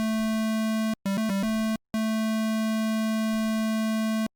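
Triangle waveform synth tone from the Sylenth1 plugin, a pure steady pitched note that briefly stutters into quick short repeats, then sustains cleanly and alone.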